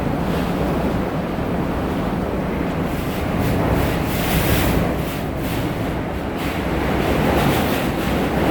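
Hurricane Irma wind hammers the side of a door with a continuous loud roar, swelling in broad gusts with no voices.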